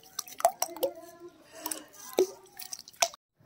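Pieces of cut tuber are swished and washed in a bowl of water, making scattered close drips, splashes and soft squishy sloshes at an irregular pace, with faint voice sounds in the background.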